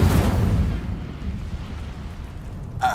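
An Incendio fire spell cast in Hogwarts Legacy erupts in a loud fiery burst at the start, then dies away into a lower rumbling tail, with a sharp crackle at the very end.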